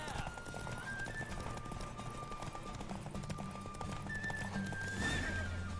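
A horse in The Witcher 3 runs with rapid clip-clopping hooves and lets out a couple of whinnies, one early and one near the end, at moderate loudness with a low game rumble underneath.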